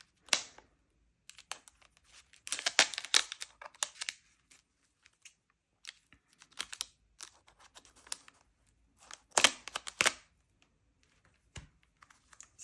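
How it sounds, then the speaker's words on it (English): Old 1993 cross stitch kit's plastic packaging crinkled and handled at close range, in irregular bursts of crackly rustling with two heavier flurries and quiet gaps between, no talk. "Excuse the rustling."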